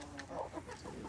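Short bursts of clucking from a rooster among farm hens, close and fairly clear, a few quick calls over about a second with no talking.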